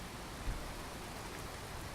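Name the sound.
rain in the video game Skyrim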